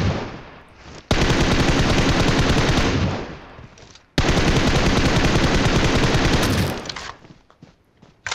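Heavy automatic gunfire in PUBG Mobile, two long, loud, sustained bursts of rapid shots, each ending in fading echoes and scattered single pops, with no talking over it.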